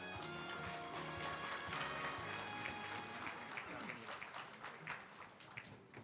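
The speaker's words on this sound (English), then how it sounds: "let's give them another applause." Applause at a centennial celebration gathering, scattered clapping with voices and some background music, thinning toward the end.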